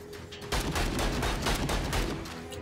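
Rapid, steady pistol gunshots in the game Llama Massacre in VALA, a dense string of loud cracks firing almost continuously for a couple of seconds, with no talking.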